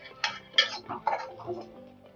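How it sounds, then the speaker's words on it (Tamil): Fried okra being scraped from a pan onto a plate, with a few close utensil clinks and scrapes against metal coming in short irregular bursts, no talking. "இப்போ இதை வந்து ஒரு பிளேட்டுக்கு நம்ம மாற்றிக்கலாம்"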